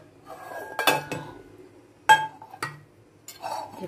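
In a home kitchen, a frying pan is handled while pots and metal utensils clink and clank. Four or five sharp, close knocks come at irregular intervals between quieter rattles, with no speech.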